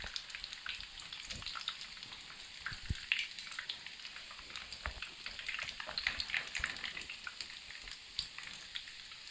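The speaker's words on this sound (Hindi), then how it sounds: "दूसरे भी डाल के हम फ्राई कर लेंगे" Beef-stuffed potato kababs fry in a pan of hot oil, giving a soft, constant sizzle with scattered crackles and pops, fairly quiet and with no voices.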